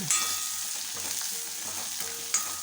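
Onions sautéing with rock salt and turmeric for a bitter gourd tamarind curry, a steady close sizzle with soft scraping stirs and occasional clinks, no talking.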